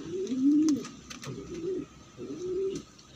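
A lone grizzle pigeon cooing in its coop, three close, low, rolling coos in a steady rhythm with brief pauses, faint rustling and clicks in the background.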